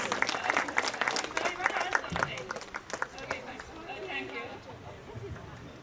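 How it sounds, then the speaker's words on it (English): Applause for teachers at an artificial intelligence talk, with distinct claps strongest at first and then thinning out as voices and room chatter take over. "Big round of applause to all the teachers."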